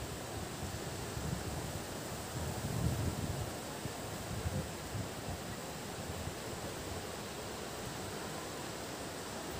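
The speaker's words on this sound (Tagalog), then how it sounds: "Nakaharap ako sa dagat. Ang lakas ng hangin." Strong wind blows by the sea with rough waves, a constant broadband roar and buffeting rumble with no distinct events, continuous and fairly soft overall.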